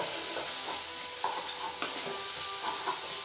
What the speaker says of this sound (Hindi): तेल छोड़ते तक इसे हम फ्राई करेंगे